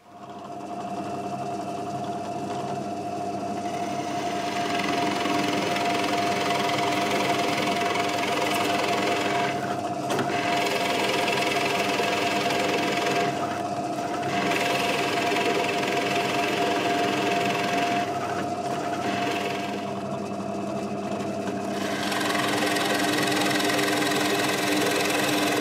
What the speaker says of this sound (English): we'll take away all the material in here, and then come back, route it all